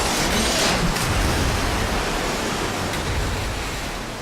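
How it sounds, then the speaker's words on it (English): Loud rushing water in the Skylanders: Giants video game, a steady broadband roar like a waterfall that fills the whole clip and eases slightly toward the end, with no talk over it. "Yep, water's still super loud, you guys."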